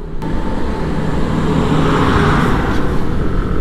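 Heavy dump trucks rumbling along a rough bypass road in Bulacan, a loud steady roar of engine and road noise close by with no talk.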